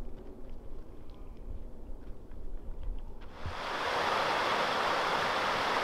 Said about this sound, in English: We're back down by the river.